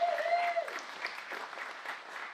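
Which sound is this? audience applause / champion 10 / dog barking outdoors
audience applause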